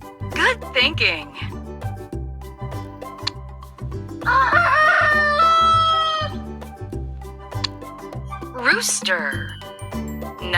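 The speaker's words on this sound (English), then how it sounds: "Rooster." A rooster crows several times over a steady rhythmic children's music backing, with clucking fowl sounds mixed in, each call loud and close.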